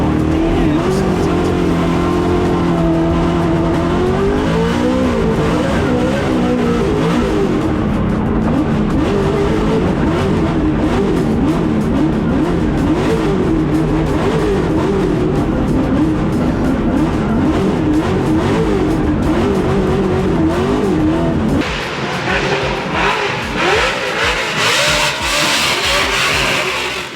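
A Ford Mustang RTR drift car competes at a Drift Masters event in Finland, its engine roaring loud and sustained with revving swells and shifting pitch, and the tone changes sharply near the end as the car passes.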